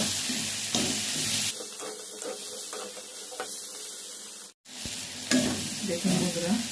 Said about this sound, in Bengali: দেখুন বন্ধুরা, ভালো করে ভাজা হয়ে গেছে।